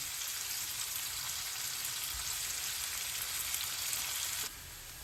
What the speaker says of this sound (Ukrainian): Цибулька і часник піджарився.